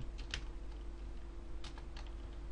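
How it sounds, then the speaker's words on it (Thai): Keys clatter on a computer keyboard in a couple of short, quiet bursts of typing while code is entered, set against a low steady hum, with no talking. "ผมพิมพ์ก่อน"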